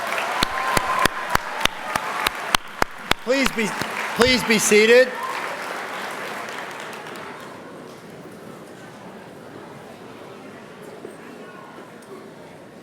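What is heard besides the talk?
audience applauding the seniors at a school assembly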